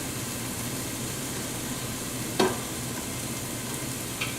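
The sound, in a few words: chopped onion and celery stirred while frying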